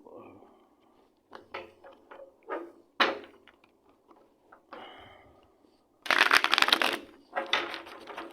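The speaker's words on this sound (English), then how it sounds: "Pull 2 cards until we get 2." Large tarot cards pulled from a deck one after another, giving a string of short papery flicks and slides, then a louder burst of shuffling rustle near the end.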